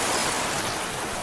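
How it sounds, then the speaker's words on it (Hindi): Sea waves wash onto a beach at night in a steady, dense broadband rush with no clear breaks, fairly loud and continuous, with no voices. "समंदर की आवाज और तेज होती जा रही थी।"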